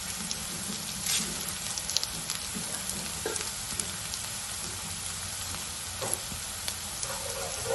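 Onions, curry leaves, ginger and garlic sizzle steadily while sautéing in a pan for a chickpea curry, with faint stirring scrapes throughout and no speech.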